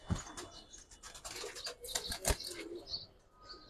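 Pigeons at a coloured pigeon seller's loft, with soft cooing and chirps, a flurry of wing flaps, and a sharp knock or clap near the middle, all fairly close.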